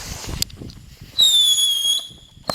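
Fourth of July fireworks go off nearby: a sharp bang followed by a high, shrill whistling screech that bends downward in pitch before fading, with another pop at the end.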